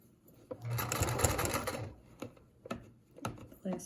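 A sewing machine stitches pleats on a surgical mask in a close, quiet room: one short steady burst of stitching, then scattered clicks and taps as the fabric and pins are handled.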